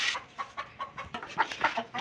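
Chickens in a mini zoo give a run of soft, evenly spaced clucks, several short calls in a steady rhythm, faint and fairly close with no talk over them.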